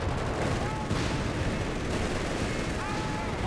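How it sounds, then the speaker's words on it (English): Machine gun fire in the World War II strategy game Company of Heroes 3, a dense continuous roar of gunshots and explosions with no breaks. "More machine guns hitting on more overlapping fields of fire."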